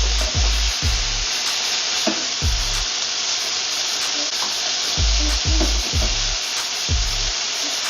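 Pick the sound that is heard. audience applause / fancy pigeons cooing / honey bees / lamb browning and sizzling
lamb browning and sizzling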